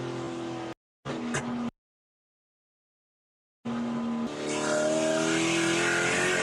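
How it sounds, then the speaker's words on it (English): NASCAR stock cars roar past on the outside at Daytona International Speedway, loud engine noise broken by abrupt silent gaps before a sustained, rising rush of cars. "For the NASCAR stock cars coming zipping past on the outside."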